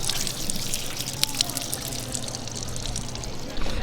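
Water splashing and trickling steadily from a public drinking fountain in a square in Burano, Italy, heard close up with faint outdoor ambience.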